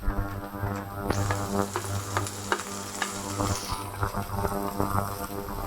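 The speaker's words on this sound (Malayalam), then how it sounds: "എല്ലാം കൂടെ നല്ലോണം ഒന്ന് വഴറ്റിയെടുക്കാം" Onion, capsicum and curry leaves sizzle and fry steadily in a hot pan, with a close, continuous hiss and frequent scraping stirs throughout.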